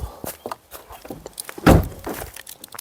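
A car door is opened and shut among several dull thunks and clicks, loudest midway, near and alone, as keys are fetched outside at a forest garden plot.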